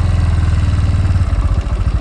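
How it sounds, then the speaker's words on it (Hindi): A Kawasaki ZX10R sport bike's engine runs loud and close in a steady, pulsing low rumble while the bike is being turned on a road with oil spilled on it. "चलो मोड़ लेते हैं बाइक को, पता नहीं मुड़ेगी कि नहीं यहाँ से"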